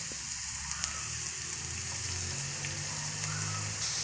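Chopped onion and green chili fry in a pan, giving a continuous close crackling sizzle with a few faint clicks, steady and without speech.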